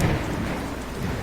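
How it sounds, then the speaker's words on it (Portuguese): Heavy rain in a thunderstorm, a dense, loud wash of pouring downpour with a low rumbling undertone, continuous and without voices. "o vento estava acompanhado por um aguaceiro que ficava cada vez mais forte"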